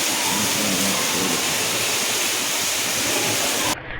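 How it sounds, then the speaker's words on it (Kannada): Heavy rain pouring down in a steady, dense, loud hiss that continues unbroken before cutting off abruptly near the end. "ಮಳೆ ಒಂದು ಸಲ ಸ್ಟಾರ್ಟ್ ಆದರೆ ನಿಲ್ಲೋದೇ ಕಡಿಮೆ, ಬೇಗ ನಿಲ್ಲೋದೇ ಇಲ್ಲ ಮಳೆ"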